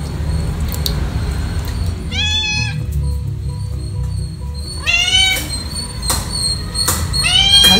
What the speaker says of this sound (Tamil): நம்ம பூனை வந்துடுது.